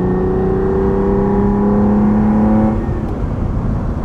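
A 1973 Ferrari 246 GT Dino revs loudly on the road from the cockpit, a close, sustained engine whine that holds steady and then drops off sharply near the end.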